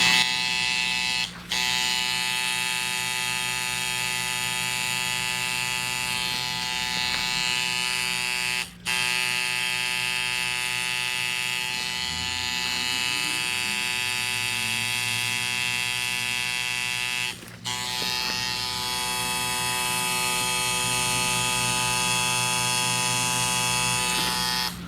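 A tattoo machine buzzes continuously while outlining a tattoo, a loud, steady electric drone with a few brief dropouts as it stops and restarts, no voices.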